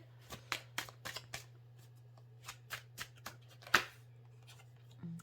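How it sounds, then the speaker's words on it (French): Tarot cards being shuffled by hand, close and fairly quiet, in a run of quick riffling bursts, a pause, then further shuffles with one sharper flurry, over a steady low hum. "Toutes les cartes sautent maintenant."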